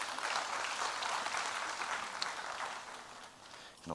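An audience at a conference talk claps in a dense burst that gradually thins and fades toward the end, with a faint voice rising at the very close.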